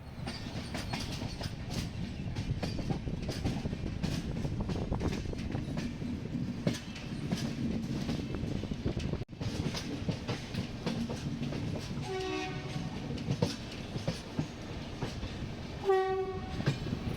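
The Nilgiri Express rumbles steadily along the tracks toward the shed with a rhythmic clatter, and a few horn blasts sound near the end.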